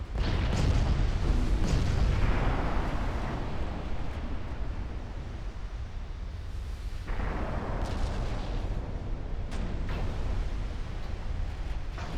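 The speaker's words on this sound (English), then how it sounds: "Krasnodar is firing back." Heavy naval gunfire from the warship Krasnodar in Ultimate Admiral: Dreadnoughts, a continuous low rumbling barrage of booms that fills the whole stretch, loud and dense with no talk.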